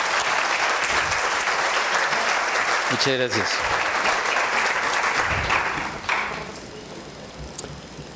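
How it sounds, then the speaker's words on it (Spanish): An audience applauds warmly at a university academic ceremony inaugurating a medical sciences building as a doctor walks to the podium. Full, sustained applause lasts about six seconds, then fades, and someone briefly speaks. "para quien solicitamos un caluroso aplauso"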